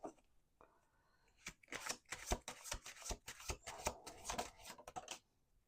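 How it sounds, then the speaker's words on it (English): Tarot cards riffle and snap in quick bursts, a fast crisp flutter of shuffling repeated a couple of times, close and fairly quiet. "Let's do 2 more shuffles."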